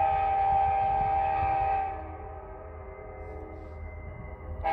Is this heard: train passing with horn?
yes